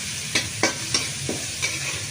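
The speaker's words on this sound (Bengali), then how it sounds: "পেঁয়াজগুলো ভালো করে একটু ভেজে নিতে হবে।" Onions and green chillies frying in a pan, a steady sizzle broken by four or five quick stirring scrapes at regular intervals.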